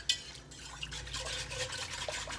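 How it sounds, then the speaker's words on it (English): A small whisk stirs sauce in a cast iron Dutch oven, giving a steady, close scraping and light liquid swishing that continues throughout with no talking. "I'm going to take my little whisk here and just whisk that all together before I add my pasta so it doesn't clump up."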